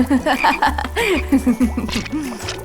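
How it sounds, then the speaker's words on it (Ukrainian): A frog croaks close by during a bathtub challenge, giving several short, rising, squeaky calls. Children's laughter and gasps run through and around the croaks. "Жаба!"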